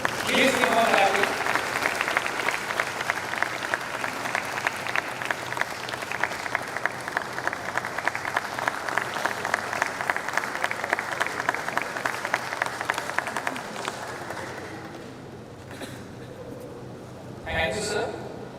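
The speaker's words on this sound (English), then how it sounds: "Please give one applause." Sustained applause from an audience at a college convocation ceremony, steady clapping filling the hall for about fifteen seconds before fading, then a brief second burst of claps near the end.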